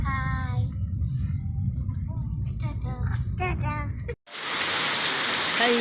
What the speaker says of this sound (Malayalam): നല്ല മഴയാണ് മക്കളെ ഇവിടെ അടിപൊളി മഴയാണ് സൂപ്പർ മഴ കുറേ സമയമായി പെയ്യുന്നുണ്ട്